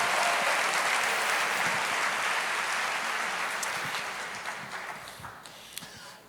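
Church audience applauding during a sermon, a broad wash of clapping from many people that slowly fades and thins toward the end.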